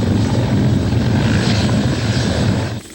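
Three Griffin military helicopters sit on the grounds preparing for liftoff, their engines and rotors making a loud, steady, continuous roar. It drops away abruptly at the very end.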